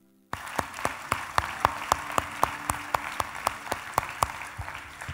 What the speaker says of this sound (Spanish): Me aplaudo solo.